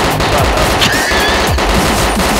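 Rapid bursts of video game gunfire crackle continuously over a dense, loud background, with scattered louder shots and a brief whine, no talking.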